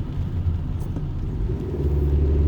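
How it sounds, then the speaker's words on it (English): Road traffic rolls past as a steady low rumble that swells slightly toward the end, close and fairly loud, with no voices. "Some traffic back there"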